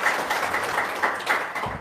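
An audience claps in short, rhythmic bursts, the applause sounding thin and close, as if from a modest crowd, and fading out after a couple of seconds.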